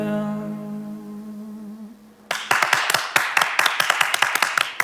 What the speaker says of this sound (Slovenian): Še en aplavz v nizu, Petra.